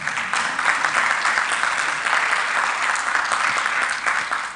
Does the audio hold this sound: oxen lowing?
no